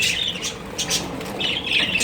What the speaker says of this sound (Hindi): सारे तोते परेशान हो रहे हैं